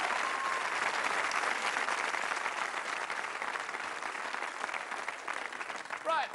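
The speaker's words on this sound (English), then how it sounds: "let's give them a nice round of applause" A studio audience at a 1990 TV game show breaks into sustained, dense applause, loud and continuous from start to finish, with faint whoops and voices mixed in.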